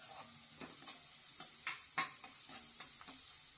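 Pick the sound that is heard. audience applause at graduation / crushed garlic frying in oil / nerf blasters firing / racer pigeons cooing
crushed garlic frying in oil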